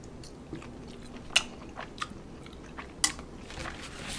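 Biting into canned whale fat with a line of meat on top, followed by soft, wet chewing with a couple of sharp crunchy bites, close to the mouth with no talk.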